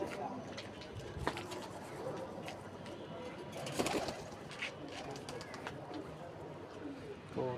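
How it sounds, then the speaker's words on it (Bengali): A pigeon coos softly in a building with a few low, repeated calls, partly masked by someone talking nearby and scattered handling noises. "এখানে কবুতর আছে একটা"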